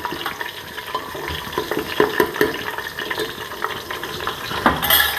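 Oil in a pan sizzles steadily as ginger-garlic paste fries, with a spoon clinking and scraping against the pan at intervals.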